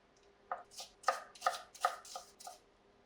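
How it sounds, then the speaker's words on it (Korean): A knife slices vegetables into thin strips on a cutting board while preparing a barbecue pork chop: about six crisp, evenly spaced chops close by, with nothing else in the background. "채 썰어 사용을 하겠습니다"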